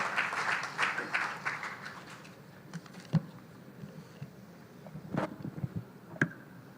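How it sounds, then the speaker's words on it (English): An audience at a special session on Goa welcomes a minister with applause that starts fairly full, thins out within a couple of seconds, and leaves a few scattered claps and knocks over faint background noise. "please welcome him to the podium with a huge round of applause"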